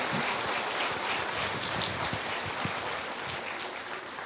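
Church congregation applauding loudly during a Spanish-language sermon, a dense continuous clapping that stays steady throughout with no speech over it.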